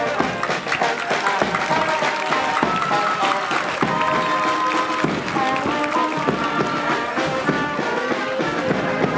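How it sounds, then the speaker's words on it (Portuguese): Audience applause at a Schützenfest shooting-club celebration of the Sociedade Bandeirantes, dense continuous clapping from a crowd blended with lively background music and chatter. "a sociedade Bandeirantes, nossos aplausos, pessoal."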